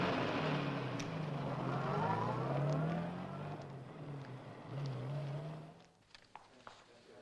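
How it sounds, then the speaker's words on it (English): Idling car engine left running outside a back exit in a 1961 setting, a low steady rumble with slight wavering pitch, fading after a few seconds, then faint clicks and small knocks. "Keep the engine running."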